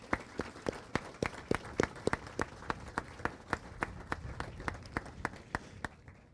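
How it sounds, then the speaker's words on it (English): A sparse crowd at a military garrison change of command ceremony claps for a color guard, individual handclaps ringing out in a loose, fairly even rhythm that thins toward the end. "Please give him another round of applause."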